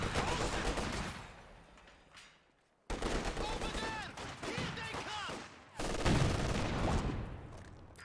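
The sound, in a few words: gunfire in the video game Company of Heroes 2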